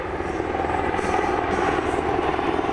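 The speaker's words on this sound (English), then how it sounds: "now let's watch the helicopter moving in, showing that minimum separation right there" An HH-60 military helicopter moving in close during an air refueling demonstration at Elmendorf AFB, Alaska, its steady loud rotor and engine roar filling the clip without pause.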